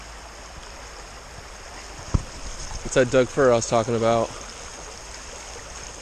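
A creek flowing in the forest at Tahuya after recent rain, a steady soft rush of water throughout, with someone talking briefly over it midway.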